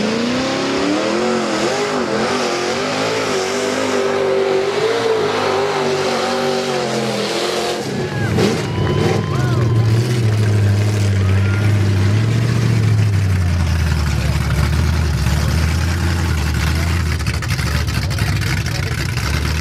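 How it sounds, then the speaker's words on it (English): 1987 Ford Ranger with a 350 Chevy V8 and 38.5-inch tires revving loudly through rising engine tones, then launching hard into a deep, sustained roaring acceleration that stays close and loud to the end. "That's an 87 Ranger, 38 fives and a 350 Chevy."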